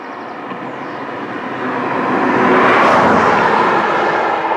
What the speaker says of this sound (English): I don't believe the amount of traffic here.